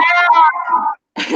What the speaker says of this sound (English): Oh, there's a lot of kitties, little kitties, Birdie.